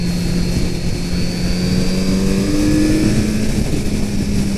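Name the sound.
Kawasaki Z900RS motorcycle engine accelerating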